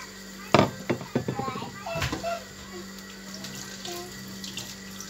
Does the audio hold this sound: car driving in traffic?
no